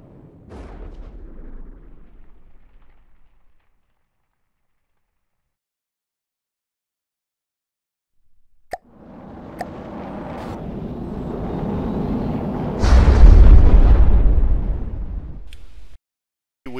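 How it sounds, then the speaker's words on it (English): In the video game From The Depths, large missiles fire and explode: a brief burst, a long silent gap, then sharp launch cracks followed by a swelling roar and heavy booming blasts that cut off abruptly. "let's just shoot some large missiles."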